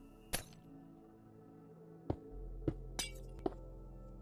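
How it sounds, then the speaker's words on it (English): Glass blocks being placed in Minecraft give sharp, isolated glassy clinks, five or so separate taps spaced irregularly over a quiet background with a faint low hum. "now on the other side, you're going to want to place the glass like this in like an S shape"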